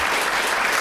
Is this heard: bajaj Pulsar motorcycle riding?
no